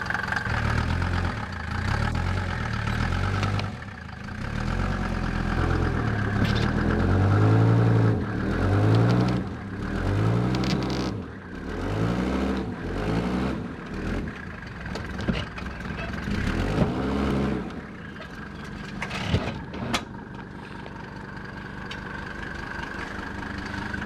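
A Mercedes car engine idles with a low steady drone, rising into several rhythmic revs in the middle before settling back to a quieter idle, with a brief sharp knock near the end.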